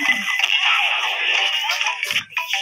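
A cellphone rings in a zombie video game, its electronic ringtone melody playing steadily and fairly loudly for a few seconds, with a short low thump near the end.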